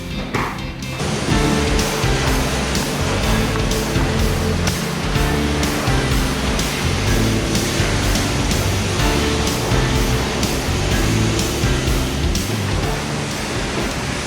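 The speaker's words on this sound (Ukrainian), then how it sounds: "Будемо змивати теплою водою." High-pressure water spray from a wand at a self-service car wash, rinsing a car with warm water after foaming, a steady loud hiss and rush running continuously throughout without pauses.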